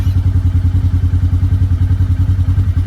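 A small Polaris RZR 50 engine runs after break-in, idling with a fast, even, throbbing pulse that is loud and close, with a slight clatter riding on the steady beat and no voices.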